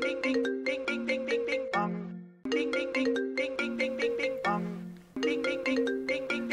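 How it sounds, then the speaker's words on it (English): A mobile phone ringtone plays loud and close: a bright, repeating melodic phrase in quick bursts, pausing briefly twice before starting over, with no one speaking. "Whose phone is that?"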